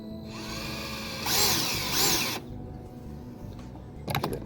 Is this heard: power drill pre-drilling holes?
yes